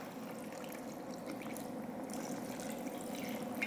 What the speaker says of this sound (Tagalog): So maglalagay lang ako dito ng additional na tubig pa.